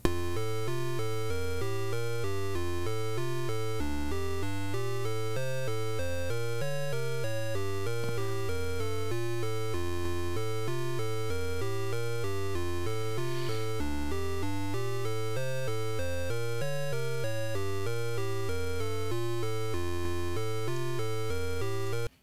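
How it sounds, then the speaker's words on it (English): A Game Boy style chiptune song built in GB Studio plays steadily throughout: bright square-wave melody and arpeggios over a bouncing bass line in a looping rhythm, with no voices. "But when we hit play, we have a nice kind of song forming here that sounds like this."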